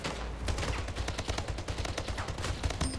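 Rapid automatic gunfire from a video game shooter, a dense, steady stream of punchy shots at close range with no pauses, filling the whole stretch.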